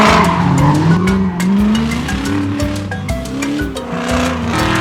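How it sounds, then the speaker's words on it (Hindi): Race cars roar continuously along a track with squealing, skidding tires and revving engines, loud and close throughout the short burst. "रेस शुरू होती है।"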